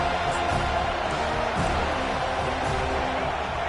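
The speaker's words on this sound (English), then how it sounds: "The roar of the crowd trying to fuel this defense to keep them pinned in their own end" Crowd roaring at an American football game, a broad sustained stadium rumble of voices with scattered cheers and whoops, steady throughout and heard at a distance.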